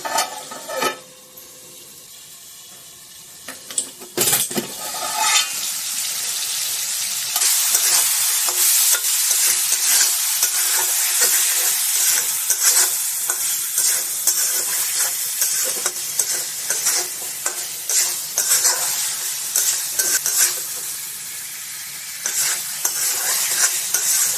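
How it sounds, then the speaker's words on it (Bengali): Chicken pieces with spices being sautéed for a chicken curry, a steady, close sizzle running throughout with repeated scraping stir strokes in the pan and no talking. "মাংসটা আমি ঢাকা দিয়ে ভালো করে কষে নেব।"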